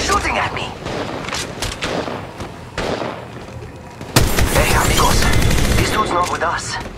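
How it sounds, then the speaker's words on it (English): Rapid bursts of gunfire from an Apex Legends shootout played on an iPad Pro, with dense crackling volleys and booms that grow louder and busier partway through, while game character voices call out under the shooting. "Shots fired at me. Taking fire!"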